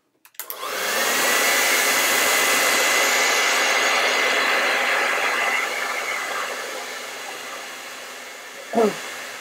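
A hair dryer runs on a thickly painted flower-vase canvas, switching on with a steady loud whoosh that continues for several seconds, then gradually fades, with a brief voice near the end.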